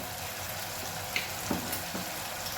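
Spices sizzle in a pan for palak paneer, a steady low frying hiss with a few faint stirring scrapes and clinks, no talking.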